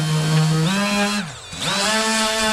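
A Milwaukee power sander works on porch wood, its motor whining steadily up close, dipping briefly in pitch mid-way and then climbing back to full speed, with no voices.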